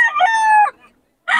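A rooster, one of the fighting roosters offered for sale at Bocaue, gives a single loud, close crow with a rising then held call, followed by a brief silence and the start of another sound.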